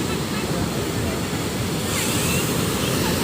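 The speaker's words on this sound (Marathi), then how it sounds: "खाली लाटा बघा" Ocean waves crash below the rock garden on the Malvan coast, a loud, continuous roar of surf mixed with wind buffeting the microphone throughout.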